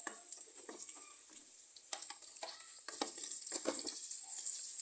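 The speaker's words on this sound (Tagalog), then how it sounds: "Ayan guys, halo-haluin natin yung ating mga rekado para hindi siya masunog." Garlic and onion sauté in a pan for chicken adobo, giving a soft, quiet sizzle broken by scattered scrapes and taps as a utensil stirs. A thin high whine sits in the background.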